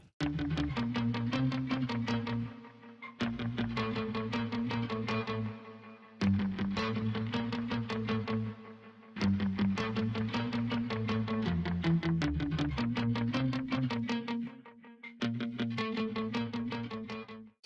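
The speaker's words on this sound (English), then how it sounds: "we've got the doubling, kind of adds a cool chorusing effect. We've got reverb and delay, and then I've even got an octave control to add in that low octave." Electric guitar processed with doubling, chorus, reverb, delay and an added low octave, played in sustained strummed phrases with brief gaps, loud and alone with no talking.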